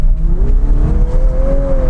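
The hybrid engine of a Lexus LC500h revs loudly under load, a droning, whirring tone that climbs gradually in pitch over a heavy low rumble, close and continuous.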